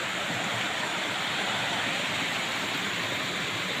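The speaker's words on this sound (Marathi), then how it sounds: "हा बघा मस्तपैकी पाणी वावता" Water from a village stream rushes in a steady, close, broadband roar, unbroken and alone for the whole stretch.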